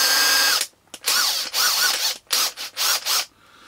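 A 180 newton-metre electric drill runs in short bursts, about six whirring pulses separated by brief pauses, close and loud with a ratcheting, hammering edge and no talk.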